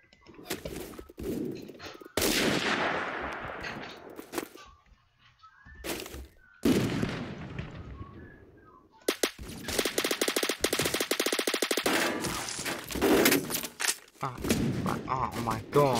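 Rifle gunfire in the video game Phantom Forces comes in loud bursts of rapid shots separated by short quiet gaps, some long sustained volleys, with a voice talking in between.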